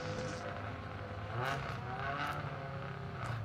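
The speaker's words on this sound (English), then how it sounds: "As we see the beautiful sounding noise, we see car number 1 of Thomas Cooper" A rally car engine drones steadily on a special stage of the Harlech Stages rally, a constant mid-distance roar with slight rises in revs and no speech over it.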